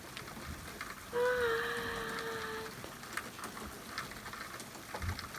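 Steady soft hiss of falling rain with scattered faint patters, and a brief tonal whine drifting through early on.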